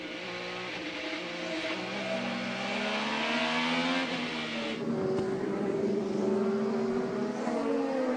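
IndyCar race cars at the 2012 Honda Indy 200 at Mid-Ohio, engines whining and rising through the gears as cars pass, a steady loud drone under trackside commentary.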